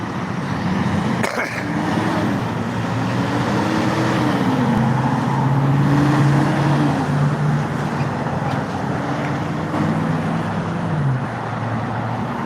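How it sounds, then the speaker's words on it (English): A Hankins Transportation tanker truck rolls along the road, its engine droning steadily with a low, shifting tone as it passes, fairly close and continuous with road noise around it. "I wonder what they're hauling in that tanker truck right here"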